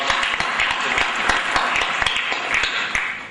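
An audience at a conference in India applauding, a dense sustained round of clapping from many hands filling the room, loud and steady throughout.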